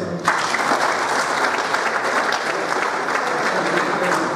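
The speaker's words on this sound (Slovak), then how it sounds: "si zaslúži veľký potlesk" Sustained applause from an audience at a regional football awards ceremony, steady dense clapping filling the whole stretch with no talk over it.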